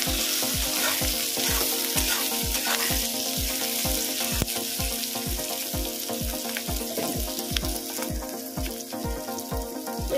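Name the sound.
onion and capsicum frying and being stirred in a pan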